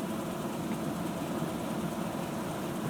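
Steady, unbroken engine drone of a jeep in the Farming Simulator 17 game, a continuous low idling rumble heard close with no speech.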